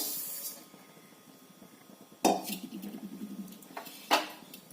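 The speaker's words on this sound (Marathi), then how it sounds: "आता दुसऱ्या गॅसवरती आपण तीळ भाजून घ्यायचंय" Sesame seeds dry-roasting in a pan on a gas stove, with a soft hiss and crackle broken by two or three sharp metal clinks of a spoon stirring against the pan.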